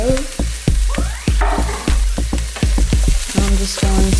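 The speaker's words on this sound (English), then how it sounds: "I'm just going to mix all of that together, like so." Shallots and tomatoes are stirred in a frying pan under a steady sizzle. A spoon strikes and scrapes the pan in a regular series of sharp, close knocks, with no talk.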